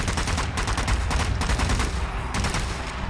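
Gunfire from a zombie enemy in the video game Zombie Army 4, a dense, continuous burst of loud shots at a fast irregular rhythm throughout, with no talking.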